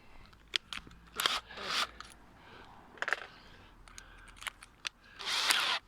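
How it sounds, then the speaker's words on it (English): A power drill drives a screw into a garden fence panel in short, sharp whirring bursts, the loudest at the start and end, with quieter clicks and handling noise between. "Then we'll just pop the bit into the drill."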